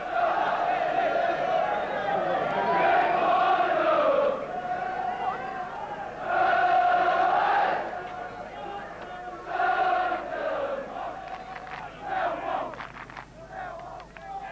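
Crowd of Millwall football supporters on the terraces in 1977, a loud massed roar of chanting and cheering swelling in waves, with voices rising and falling together.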